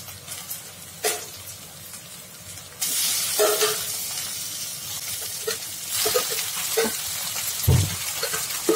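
Chicken pieces drop into hot oil with frying ginger, garlic and onion masala, and a loud sizzle bursts up and keeps hissing steadily, with occasional spoon scrapes and clinks in a home kitchen.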